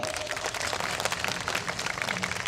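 An audience at a temple trust's Rajagopuram inauguration event breaks into dense, steady applause, many hands clapping together at moderate distance without pause.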